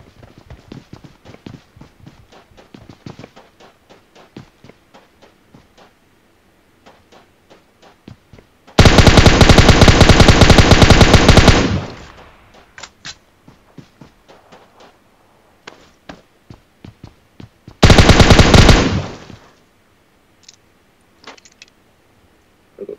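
In PUBG Mobile, two long bursts of rapid automatic gunfire ring out loud and close, one about three seconds long and a shorter one later. Scattered single shots and quick footstep-like taps fill the gaps between them.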